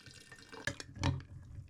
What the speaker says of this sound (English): I pour the warm water into the jar.